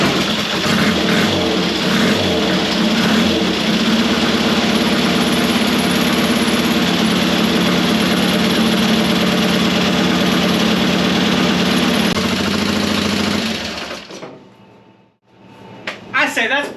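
A Triumph Desert Sled motorcycle engine runs loud and close with a steady idle that keeps going before cutting out, followed by a brief silence and a short restart burst.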